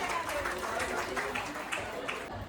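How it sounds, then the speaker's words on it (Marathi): An audience at a local function applauds loudly, a steady wash of many hands clapping together with indistinct crowd noise mixed in. "टाळ्या, जोरात टाळ्या."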